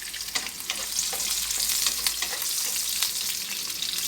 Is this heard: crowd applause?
no